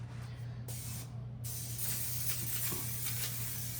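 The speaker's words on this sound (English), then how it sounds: "Typically don't have to spray this, but I'm spraying it today." Cooking spray hissing from a can onto a baking pan lined with parchment paper, a steady close spray running in short bursts against a quiet kitchen background.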